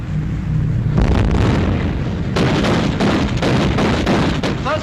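Ship's guns open fire in a wartime naval battle: a continuous loud roar of blasts and rumbling booms layered over one another, sustained and dense throughout, with a shouted voice briefly heard.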